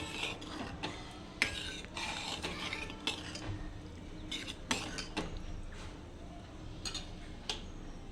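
A spoon scrapes and clinks against a pot of dal-methi lentil curry with kokum and jaggery in a run of irregular stirring strokes, close up and moderately loud, with no talking.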